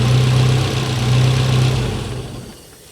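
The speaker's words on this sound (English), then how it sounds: "Let the car run for a minute just to make sure there weren't any leaks down there" A drift car's engine idles steadily and loudly up close with a low, even hum, then fades slightly toward the end.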